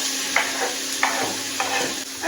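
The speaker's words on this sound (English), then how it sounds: "As you can hear, it's starting to sizzle away, so I'll just give it a stir." Bacon sizzles and crackles steadily in a hot pot, with a few scraping stirs cutting through the hiss.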